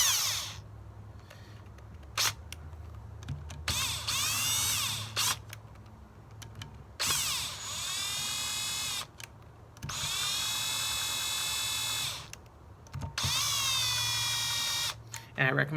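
A cordless drill threads bolts into a Kawasaki KX250F motorcycle engine during a rebuild, giving several short, close whirring bursts that rise in pitch, with someone talking in the gaps between them.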